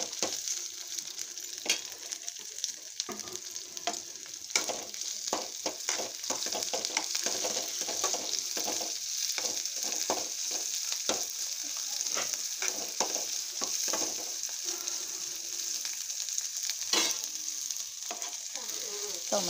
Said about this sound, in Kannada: ಎಣ್ಣೆ ಒಳಗೆ ಫ್ರೈ ಮಾಡ್ಕೊಂಡು ಉಳ್ಳಾಗಡ್ಡಿ ಇಟ್ಟು